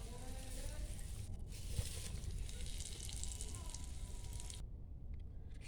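Eggplant slices, a masala begun bhaja, frying in hot oil in a pan, giving a steady, dense sizzle that runs continuously throughout.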